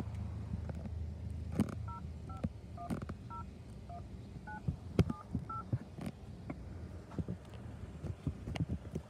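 A string of short, separate telephone keypad DTMF tones, about ten beeps pressed one after another at an uneven pace to enter a date of birth, faint under light background noise.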